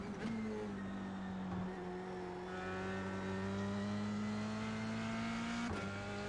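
An F3 race car engine in the iRacing simulation at Watkins Glen holds a steady tonal whine with clear harmonics, climbing gradually in pitch, then dips briefly at a shift before carrying on.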